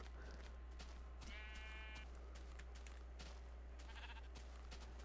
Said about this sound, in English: There's a black sheep. Two black sheep.